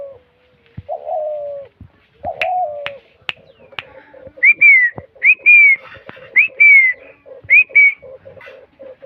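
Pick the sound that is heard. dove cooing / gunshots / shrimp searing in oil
dove cooing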